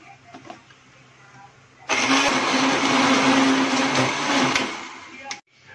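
A kitchen blender grinds a banana chocolate milkshake with ice cubes, a loud continuous whirring roar that starts abruptly after brief quiet handling noises, runs for several seconds, then cuts off sharply.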